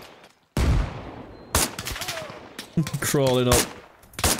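Arma Reforger gunfire in a beach defence against storming Russian forces cracks in sharp single shots and a rapid automatic burst, loud and close, with someone talking between the shots.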